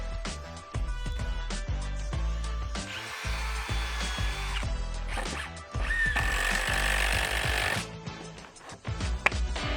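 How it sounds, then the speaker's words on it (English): Bursts of a power drill whining into timber deck subframe joists and bearers, pre-drilling and driving 75mm 10 gauge screws, with short pauses and clunks between runs, close up and loud. "We're pre-drilling then screwing off using 75mm 10 gauge Gel screws, 2 at each joist into the bearers."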